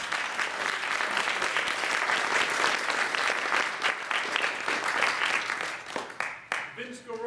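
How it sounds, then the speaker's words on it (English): Dense audience applause at a public library presentation for jazz pianist Vince Guaraldi, steady and full for several seconds before thinning out near the end, where talk begins. "I think he deserves another round of applause"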